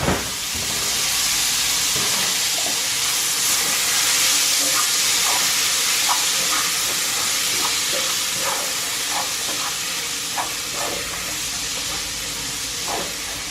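Tomatoes sizzle and hiss steadily in a hot pan for a mixed seafood stir fry, a continuous close frying crackle with scattered small pops throughout and no talking.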